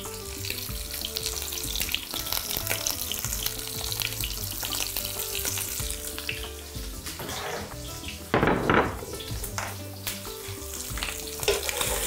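Borscht ingredients frying in a pan, a steady loud sizzle with stirring scrapes and a brief splash of running water partway through, no voices.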